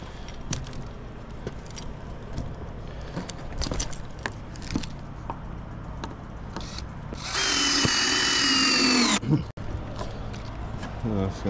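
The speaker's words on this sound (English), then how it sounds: "let's finish screwing all this stuff off and then we'll camouflage it" A power drill drives long screws into a makeshift tree stand outdoors, with a loud sustained whirring burst of about two seconds after scattered handling clatter, and a person talking around it.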